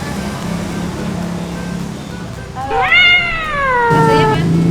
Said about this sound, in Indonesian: Ada kucing mau minta.